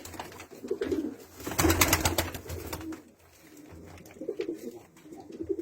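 Domestic pigeons coo inside a coop, soft low throaty calls in short bursts rising and falling, with a flurry of wing flapping partway through.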